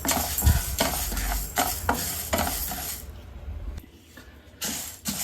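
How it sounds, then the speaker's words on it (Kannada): Horse gram is stirred while dry-roasting in a pan, giving rhythmic scraping strokes of a spoon against metal with light rattling of the grains, close and fairly loud, pausing briefly before resuming. "ಒಂದು 2 ಟೇಬಲ್ ಸ್ಪೂನ್ ಅಷ್ಟು ಹುರುಳಿಕಾಳನ್ನು ಸೇರಿಸ್ಕೊಂಡು ಕೆಂಪಾಗೋ ತನಕ ಫ್ರೈ ಮಾಡ್ಕೊಳ್ಳೋಣ"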